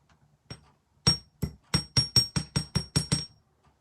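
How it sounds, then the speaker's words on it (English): About ten sharp hammer blows on wire for a wire-wrapped bracelet ring out close by, starting sparse and settling into a quick, steady rhythm with a slight metallic ring. "you hammer this down too"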